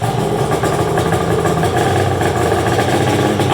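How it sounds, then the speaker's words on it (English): Polaris triple 650 snowmobile engine revving hard, a loud, steady, dense roar holding at high revs throughout without a break. "If you love the sound of a triple 650, this is about where you're going to want to crank your video up."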